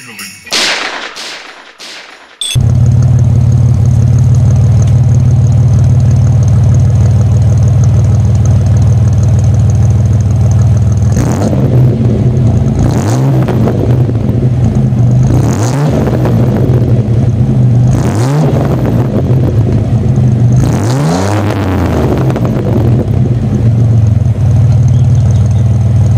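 A 1987 Pontiac Firebird with a 2.8 V6 engine holds a steady, loud idle, broken by several quick revs that rise and fall, after a brief burst of other sound at the start.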